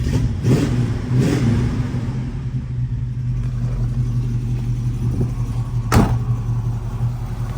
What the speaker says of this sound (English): Okay, let's fire her up.